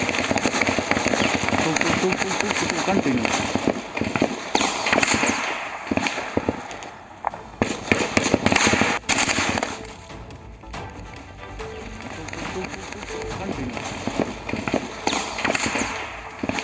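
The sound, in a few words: gunfire during an encounter with militants in Baramulla, Kashmir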